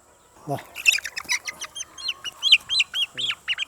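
Kadaknath black chickens on an egg farm, a quick run of close, sharp clucks and squawks in an uneven rhythm, loud against a quiet background.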